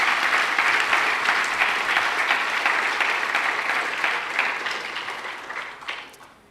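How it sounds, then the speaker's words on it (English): An audience at a Bharatanatyam arangetram in Birmingham gives a sustained round of applause for a percussionist, loud dense clapping that thins out and fades toward the end. "A big round of applause for Balu sir."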